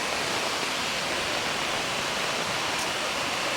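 Kanumantad Falls pours down in a steady, dense rushing roar, loud and unbroken throughout, with no voices.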